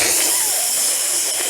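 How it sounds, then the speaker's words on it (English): Broadband white noise like an untuned radio's static hisses loud and steady for under two seconds, with nothing else heard. "it's like when you are tuning on the radio and it's not catching any signal"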